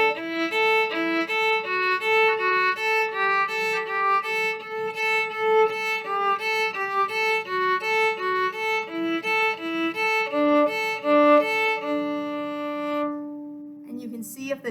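A bowed orchestral string instrument runs a string-crossing exercise, the bow alternating down and up on every note between two strings in a steady, even rhythm, close and clear, ending on a sustained note.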